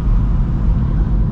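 Pagani supercar engine with a steady loud roaring drone, dense and close, held for a brief moment without a break.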